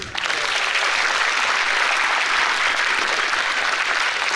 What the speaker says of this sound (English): Please join me in welcoming Acharya Prashant with a big round of applause.